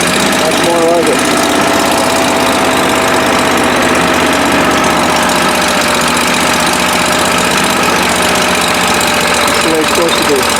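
A rebuilt Kohler EFI 745 engine runs loud and close, a continuous rough droning rumble with steady vibration throughout, no pauses.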